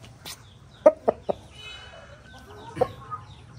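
A large 2.5-year-old rooster being held by hand clucks in a few short, loud, close bursts, with quieter background noise and faint chirping in between.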